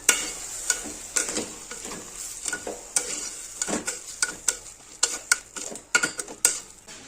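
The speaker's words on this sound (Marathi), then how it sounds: "हे व्यवस्थित मिक्स करून घेऊया आपण." Rice grains being stirred in hot water inside a pressure cooker pot while making potato pulao, with repeated close scraping and clinking strokes of a spoon against the metal in an irregular rhythm.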